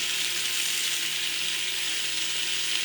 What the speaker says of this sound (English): add about 2 tablespoons of vegetable oil or any oil of your choice, and then right away add the beef and sear until it's browned on all sides